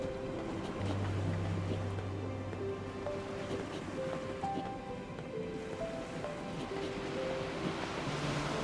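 Turbulent ocean waves washing against a ship in NieR Reincarnation, a constant soft surf and water wash under sustained musical tones.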